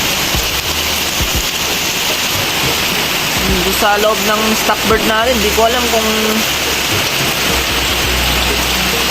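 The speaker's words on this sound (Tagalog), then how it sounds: "Lakas ng ulan guys." Steady heavy typhoon rain roars throughout, a dense hiss of downpour with a person talking briefly in Filipino over it.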